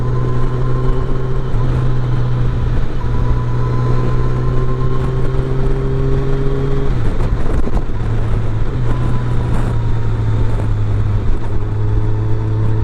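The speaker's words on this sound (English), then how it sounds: "riding an FJR 1300 through Northumberland and Lower Scotland" Yamaha FJR 1300 motorcycle riding on roads through Northumberland and Lower Scotland, a steady loud engine drone with shifting pitch and wind rush throughout, dipping briefly as the engine note changes midway.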